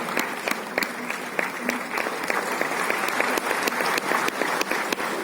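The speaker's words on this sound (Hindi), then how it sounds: "तालियों के जोश में बिल्कुल कमी मत आने दीजिए।" Crowd applause at a CPWD 170th foundation day event: dense, steady clapping from a large audience for about five seconds, loud and close.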